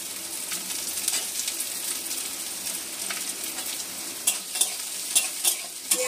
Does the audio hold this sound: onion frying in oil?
yes